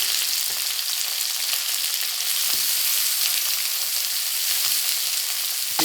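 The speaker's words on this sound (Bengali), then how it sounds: "হালকা করে পেঁয়াজটাকে ভাজবো" Chopped onions and green chilies fry in a pan with a steady, bright sizzle that holds close and even throughout, broken only by a few faint stirring knocks, with no voices.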